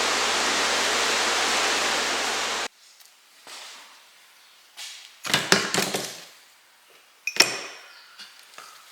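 Rusty items soaked in apple cider vinegar are rinsed under water: a loud steady rush of running water for nearly three seconds, then sporadic splashes, clinks and handling noises as the pieces are moved about.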